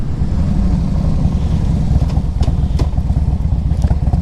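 A 2000 Harley-Davidson Road King Classic engine running steadily nearby, a loud, low, lumpy idle rumble with a continuous rhythmic throb and a few faint clicks.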